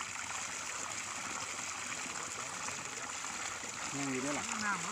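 Water rushing through a one-and-a-half-inch pipe as it fills, a steady close broadband wash with a voice speaking over it near the end.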